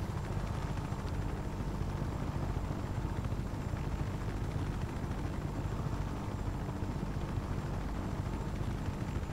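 Helicopter flying in the video game Just Cause 3, a steady, dense rotor and engine drone that holds unbroken at moderate level throughout with no voices over it.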